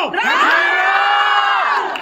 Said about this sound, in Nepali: बिना धनका सम्पूर्ण कलाकारलाई जोरदार ताली एकचोटि सबैले एकै आवाजमा भन्दिनु होला